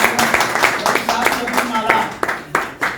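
An audience claps in steady, regular beats at an RCM program event welcoming a guest, the claps fairly close and loud, with a voice talking over them throughout.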